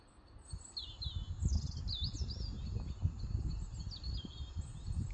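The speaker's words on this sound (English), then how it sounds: "Lots of bird noise. I can hear crows as well, or rooks." Several birds, including crows or rooks, chirp and call in short, scattered bursts over a rumbling background on a misty, still canal side by woods, with no clear harsh cawing standing out.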